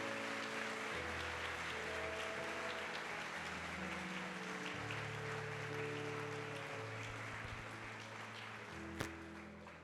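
A church congregation claps steadily at a distance, a sustained wash of applause that fills the whole stretch with a low sustained tone underneath and one sharp knock near the end.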